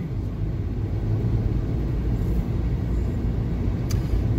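Steady low rumble of a car driving along a rural county road, heard from inside the vehicle, with constant engine and tyre noise and no speech.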